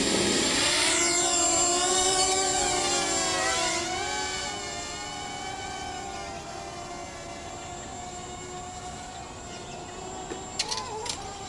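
A Hubsan X4 H107D FPV mini quadcopter drone flying, its steady high-pitched rotor whine sliding in pitch as it speeds up and slows, loud and close at first and then settling a little quieter, with a few small knocks near the end.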